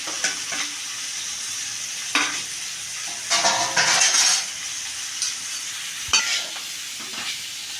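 Potato pieces fry in a pan with turmeric, sambar powder and salt as they are stirred. Loud scraping bursts from the stirring come and go over a continuous close sizzle.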